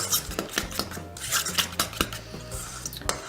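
A spoon mixes cream cheese dip in a bowl, making quick irregular scraping and clinking strokes, close and moderately loud, with no talk.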